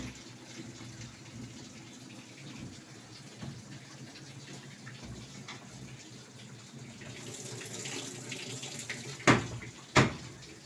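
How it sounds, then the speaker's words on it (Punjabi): A washing machine runs and fills with water, a steady, moderate rush of flowing water over a low mechanical hum, with two sharp clacks near the end. "ਮਸ਼ੀਨਾਂ ਦਾ ਕੱਪੜੇ ਧੋਣ ਦਾ ਮਸ਼ੀਨ ਚਲਾ ਦੇਣੀ ਆ ਮੈਂ"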